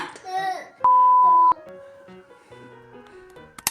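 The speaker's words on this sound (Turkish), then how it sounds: "Şimdi Spiderman'i aramaya gidiyorum." Phone call tones, a single sustained electronic beep after a voice, followed by faint ringing tones and quiet chatter from children in the room.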